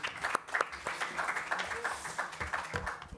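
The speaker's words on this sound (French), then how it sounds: "On peut vous applaudir d'ailleurs." Audience applauding at an evening conference on affordable and sustainable housing, a steady mid-level wash of many hands clapping that carries through the whole moment without a break.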